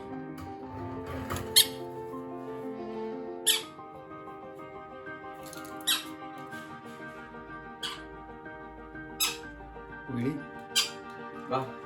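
A pineapple conure parrot gives short sharp squawks and squeaks at irregular intervals over a steady tonal background hum.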